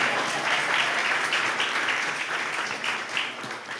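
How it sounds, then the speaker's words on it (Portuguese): A church audience applauds a preacher's son, a sustained, even wash of many hands clapping at moderate loudness, with no voice over it. "Palmas para o meu filho, por favor."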